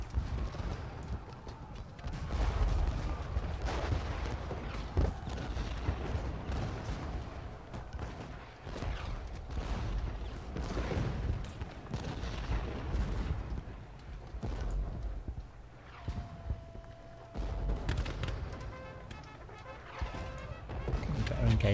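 Artillery cannons fire on the Gettysburg battlefield of the video game Ultimate General Gettysburg as distant, repeated booms under a continuous din of battle noise, horse hooves and gunfire, while someone talks over the action.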